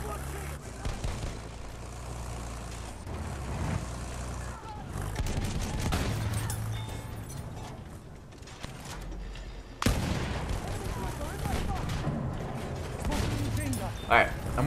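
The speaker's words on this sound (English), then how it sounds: "Enemy machine gun." Enemy machine gun fire in Battlefield 1, bursts of rapid gunshots rattling among distant explosions, engine rumble and battlefield din, with a player talking over it at times.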